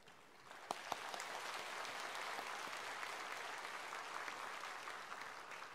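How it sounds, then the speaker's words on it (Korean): A church congregation at a Sunday worship service applauds to welcome a visiting guest, a soft, even wash of many hands clapping at a distance that holds steady for several seconds. "경례의 박수 드리겠습니다"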